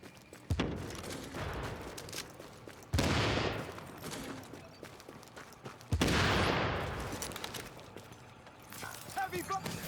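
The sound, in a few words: heavy gunfire in The Division video game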